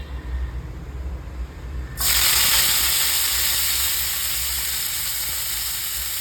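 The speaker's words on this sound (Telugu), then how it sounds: "ఇప్పుడు ఇదే ఆయిల్లో మనము కడుక్కొని పెట్టుకున్న కొత్తిమీర వేసుకుందాం." Washed coriander leaves dropped into hot oil erupt into a sudden loud, steady sizzle and hiss that holds with little change, close up and with no voices.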